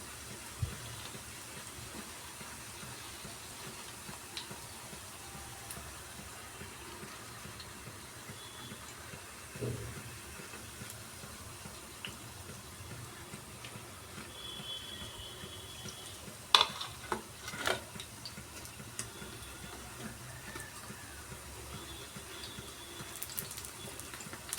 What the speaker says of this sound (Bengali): এইভাবে আমি সবগুলোকে ফ্রাই করে নেব।